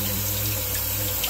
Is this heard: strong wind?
no